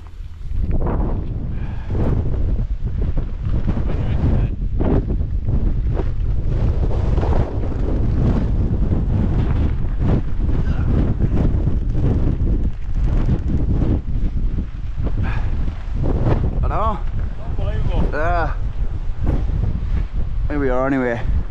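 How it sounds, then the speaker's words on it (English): A strong gale roars across a mountain top in the Lake District, buffeting the microphone with loud, continuous gusting rumble throughout, and a voice is briefly heard near the end. "we're at the top and it's blowing a gale"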